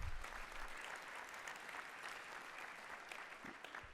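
Dinner guests at a Catalyst Canada honours dinner applauding, a dense, even patter of many hands clapping that holds steady throughout, heard from some distance in a large room.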